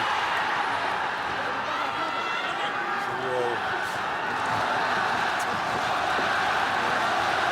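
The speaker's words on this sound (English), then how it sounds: "the crowd erupts with the chants of Ogawa, Ogawa" A packed PRIDE FC fight arena crowd roars and chants a fighter's name, Ogawa, in a steady, dense wall of voices that stays loud throughout.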